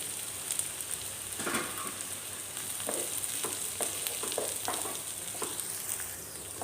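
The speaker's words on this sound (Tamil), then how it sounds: "வெங்காயம் நல்லா வதங்கியாச்சு இந்த மரவள்ளி கிழங்கு இதிலே போட்டுக்கலாங்க" Cassava added to softened onions and sautéed in a pan, giving a steady close sizzle with scattered crackles and light stirring scrapes throughout, no voices.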